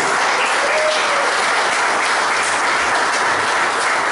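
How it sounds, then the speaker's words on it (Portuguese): Church congregation claps for Jesus at a service, steady, loud and dense applause filling the room without a break. "Por favor, palmas ao Senhor Jesus comigo mais uma vez."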